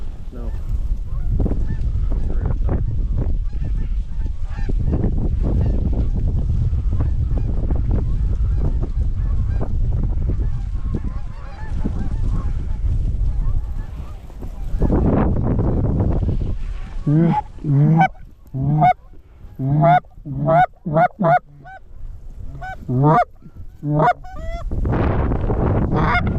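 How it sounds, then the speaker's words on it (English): A flock of geese honking during a goose hunt in blizzard conditions, a continuous roar of strong wind that gives way to many loud, overlapping honks from birds passing close overhead. "Yeah, those are all geese."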